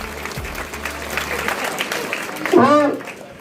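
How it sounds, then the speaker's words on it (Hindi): Audience at an annual school function applauds to welcome teachers' union guests, steady clapping running throughout with a voice briefly rising over it near the end. "तालियां बजाकर उनका जोरदार तालियों में स्वागत"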